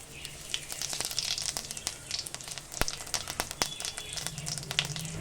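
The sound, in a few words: cumin seeds tempering in hot oil in a wok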